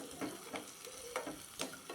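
Onion, green chilli and curry leaves sauté in a pan for bun dosa, a quiet steady sizzle broken by a few soft stirring scrapes and clinks at irregular intervals.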